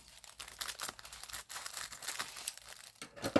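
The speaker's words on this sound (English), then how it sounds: "Here, we'll just kind of cut the bag." Quiet crinkling of a thin tea bag packet being cut with adhesive scissors, with a series of small crisp snips and rustles close up.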